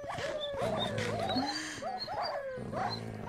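Dogs in a video game bark and yelp repeatedly in quick, close, fairly loud calls with growling undertones, and several animals overlap.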